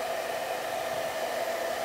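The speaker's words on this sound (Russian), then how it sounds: "поворачиваем собачку попой к фену и тихонечко вот так вот издалека дуем" A hair dryer blows steadily on a toy poodle puppy during grooming, held at a distance, giving an even, continuous whir with no voices.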